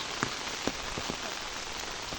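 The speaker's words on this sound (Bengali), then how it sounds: "বৃষ্টি হচ্ছে সারাদিন বৃষ্টি পড়তেছে আজকে সারাদিন সম্ভবত বৃষ্টি হবে" Monsoon rain falls steadily outdoors at a farmhouse, a dense even patter with occasional louder drips striking nearby surfaces.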